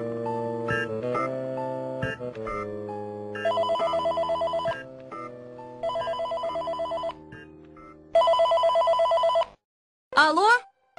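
A telephone rings in a Russian animated dinosaur cartoon, with repeated bursts of electronic ringing alternating with musical tones, loud and close.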